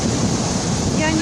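Stormy Black Sea surf rolls onto the pebble beach at Lazarevskoye with strong wind, making a loud, continuous roar and hiss of breaking waves with wind buffeting the microphone throughout.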